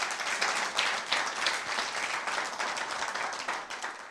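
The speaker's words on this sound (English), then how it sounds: "Please clap for yourselves one more time" A studio audience on a television talk show claps steadily, a dense and lively round of applause that stays loud and even from start to finish.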